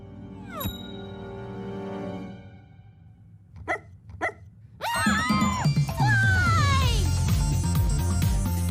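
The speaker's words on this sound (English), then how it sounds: "He said a dog? In the mail?" Dog barking in an animated show: a few sharp yips and barks, followed by loud, busy background music and effects.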